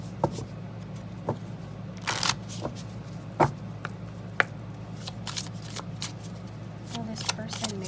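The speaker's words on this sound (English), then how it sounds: "I'm going to get a Love Oracle card as well." Love Oracle cards being shuffled for a tarot reading: quick papery riffles and crisp slaps of the deck come in irregular bursts, close and fairly quiet.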